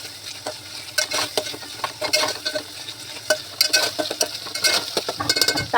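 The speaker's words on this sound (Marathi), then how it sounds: "कांदा चांगला परतून घेऊया आपण." Onions sauté in a pan with ginger-garlic paste, green chili and coriander, producing a close, loud sizzle broken by repeated sharp scraping strokes of a stirring spoon in an uneven rhythm, with no talk.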